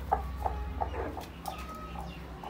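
A fancy-breed hen with a weak leg clucks softly in short, irregular bursts, fairly close, over low background noise.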